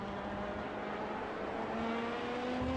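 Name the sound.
LMP2/GTE race car braking in iRacing video game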